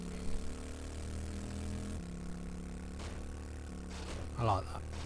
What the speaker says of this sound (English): Pull out a chopper from my pocket.